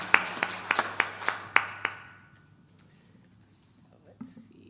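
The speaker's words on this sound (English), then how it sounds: "Let's give Joan a round of applause" A handful of sharp, separate claps from a small church congregation rings out in the first two seconds, thinning and fading out rather than building into a full round of applause, followed by quiet room murmur.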